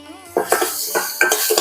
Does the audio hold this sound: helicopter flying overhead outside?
no